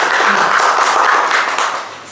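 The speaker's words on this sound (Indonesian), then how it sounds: "Keren, tepuk tangan." Dense clapping and applause from an audience at a youth health podcast recording, loud and steady, fading slightly toward the end.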